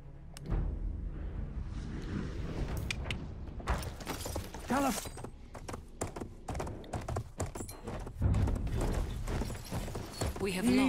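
Hooves clatter in a rapid, uneven clip-clop as a horse gallops across the ground in Battlefield 1, mixed with mechanical clanks and creaks, while someone talks over the top throughout.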